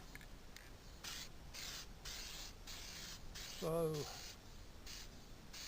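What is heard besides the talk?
spraying gasket sealer onto a head gasket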